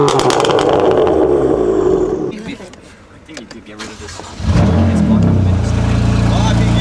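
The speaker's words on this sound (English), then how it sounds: "Got the M going." A BMW F82 M4 engine starts and revs, loud and close, with a burst of revving at first, a brief quieter dip, then the engine roaring back and holding a steady note.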